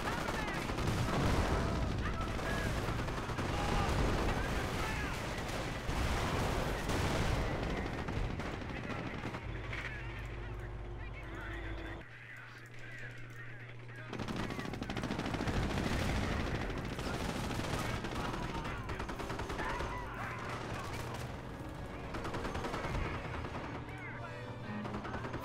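Mortar blasts and rattling gunfire from the World War II strategy game Company of Heroes in Cherbourg form a dense, continuous barrage, with a brief lull midway before the heavy firing resumes.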